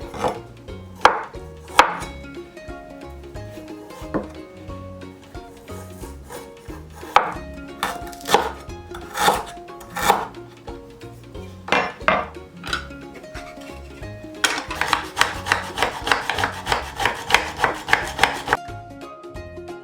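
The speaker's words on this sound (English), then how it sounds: "Now we are cutting the green onion into small pieces." A knife chops green onion into small pieces on a board for a pork steamed-bun filling: sharp, close strikes, irregular at first, then a fast steady run of chops toward the end, with no talk.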